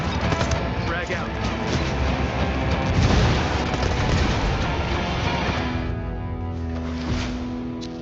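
Frag grenade explosion in a video game, heard as a loud rumbling boom in dense battle noise, with gunfire and a voice talking over it.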